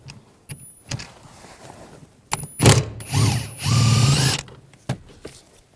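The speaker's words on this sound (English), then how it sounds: "Now we're going to take the bolts out. I'm going to use a T50 socket." A ratchet fitted with a T50 socket works loose the seat bolts of a 2013-2020 Nissan Pathfinder, giving close, loud bursts of rapid clicking separated by short pauses and a few sharp knocks.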